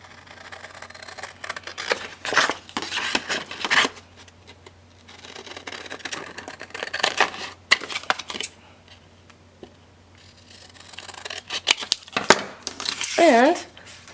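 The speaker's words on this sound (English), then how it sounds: "And then I'm just going to use my scissors." Close, crisp snipping and paper rustling come in irregular bursts with quiet pauses between, and brief talking near the end.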